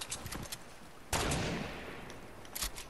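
In a shooter video game, a single sharp, loud sniper rifle crack hits hard, then decays into a long echoing tail, with fainter scattered shots before and after.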